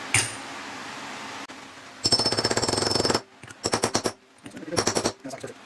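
Hammer tapping a part into place on a raw water pump during a rebuild on a 2005 Moomba Mobius LSV boat, heard as bursts of sharp rapid metallic taps separated by pauses, close and loud, after an opening stretch of steady noise.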